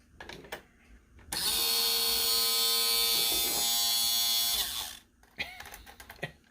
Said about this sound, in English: It's got quite an obnoxious sounding motor.